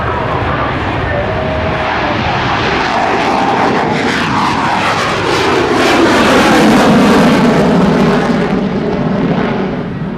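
An F-15E Strike Eagle jet roars loudly throughout an airshow demonstration, its pitch sweeping downward as it lifts off, pulls up into inverted flight and banks, with the engine noise swelling toward the end.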